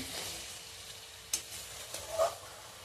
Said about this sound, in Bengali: আর মশলাটা কষাতে ছাড়লাম।